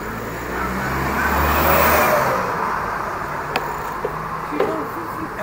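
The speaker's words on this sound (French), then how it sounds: "Laisse passer les voitures." Cars pass by on a road, one engine swelling to a close, loud whoosh before fading into steady traffic noise with a few sharp clicks.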